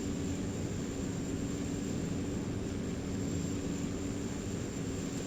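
Cockpit drone of a Cessna Caravan Cargomaster turboprop in a flight simulator, a constant steady engine hum with no speech and no change in level, fairly quiet and unbroken.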